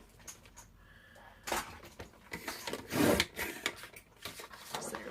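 Fabric scraps being trimmed produce rough scraping, rasping cutting strokes in several close bursts that grow louder midway, with no voices.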